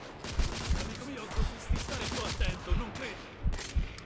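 Gunfire from the PS4 Pro video game The Order: 1886 in Whitechapel, with sharp shots repeating at uneven intervals over a busy, noisy battle background.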